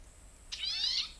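A single bird call rings out: a bright, sweeping whistle-like note lasting under a second, fairly clear against quiet background.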